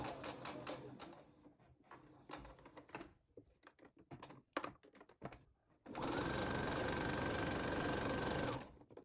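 Sewing machine stitching four folded fabric ties: stuttering short bursts of stitching and clatter at first, then a loud continuous run of close mechanical whirring for about three seconds before stopping.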